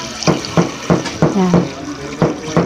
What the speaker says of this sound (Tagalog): Ayan, lagyan na siya natin ng tubig.